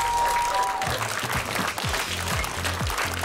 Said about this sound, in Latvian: aplausi nebeidz beigties